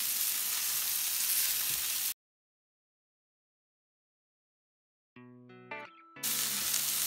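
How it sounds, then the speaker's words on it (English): Steaks and tornado mushrooms fry in a pan with a bright, close sizzle that cuts to silence for about three seconds. A brief tonal chiming passage follows, then the sizzle returns. "now I'm adding these awesome tornado mushrooms to the pan"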